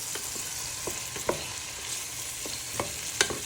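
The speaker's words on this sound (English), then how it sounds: "we're just frying our onion and garlic for a few minutes in with our chicken" Chicken pieces with onion and garlic sizzling in a pan for a stew, a steady frying hiss broken by several sharp scrapes and clacks of a spoon stirring, close and moderately loud, no speech.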